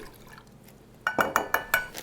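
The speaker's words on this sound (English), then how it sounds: "We are gonna put a 1/2 cup of this balsamic vinegar in this little pot." Balsamic vinegar, half a cup, poured from a small spouted pot, with a run of five quick, close clinks and splashes in the second half after a quiet start.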